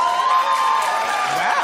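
A talk-show studio audience reacting with a brief mix of clapping, cheering and whooping voices, loud and crowded for a moment.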